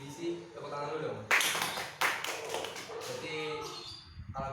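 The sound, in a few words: applause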